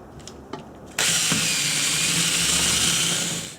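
An old-fashioned corded power drill spins up abruptly and runs at a loud, sustained whine, boring out a broken ABS wheel sensor inside a steering knuckle; a few light clicks and taps come just before it starts.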